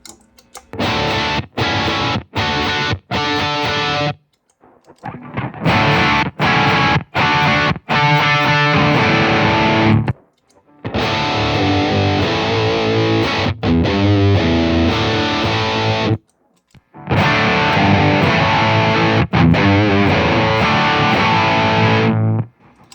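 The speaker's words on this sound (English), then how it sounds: "Let's do some heavy distortion." Loud, heavily distorted electric guitar playing chopped chords in short bursts, then sustained riffs, with brief silences between phrases.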